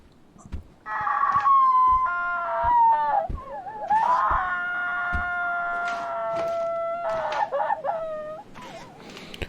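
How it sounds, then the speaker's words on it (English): Elizabeth, a character in the horror game Lunacy: Saint Rhodes, lets out a series of loud, wavering, drawn-out screams and wails that rise and fall in pitch. Each cry breaks off briefly before the next begins. "we'll hear Elizabeth scream"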